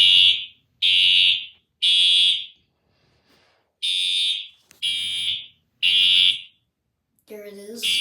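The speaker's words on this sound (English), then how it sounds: "this is another test of fire alarm system." Fire alarm system under test sounding loud repeated electronic horn blasts, about six bursts of just under a second each with short gaps, then a brief voice at the end.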